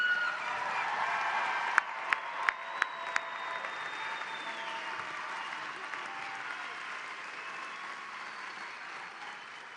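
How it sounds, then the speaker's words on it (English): A large audience applauds graduates at a fall university commencement ceremony, steady dense clapping filling the hall throughout, with a few sharp louder claps standing out near the start. "let's give our graduates one final round of applause"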